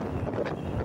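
Strong wind buffets the microphone in steady low rumbling gusts for under a second, out on a road near Cascavel, Ceará, with no voices.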